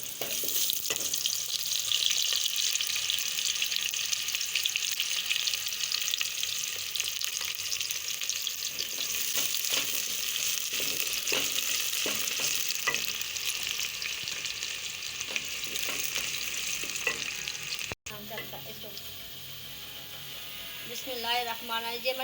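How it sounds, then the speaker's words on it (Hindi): Onions dropped into hot ghee while cooking coriander-mint rice give a steady, loud sizzle and crackle that runs throughout, with a brief drop near the end before frying resumes, and a voice speaks over it. "जब घी गर्म होता है तो तब डालते हैं हम प्याज। अब मैं डालने लगी हूँ प्याज।"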